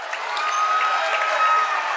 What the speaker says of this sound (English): Everybody clapping hands.